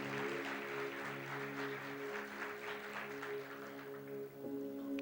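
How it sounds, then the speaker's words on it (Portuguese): A church congregation applauds during a sermon, a dense wash of many hands clapping at a distance, steady and fairly faint for several seconds before tapering off. "Você pode aplaudir ao Rei dos Reis e ao Senhor dos Senhores."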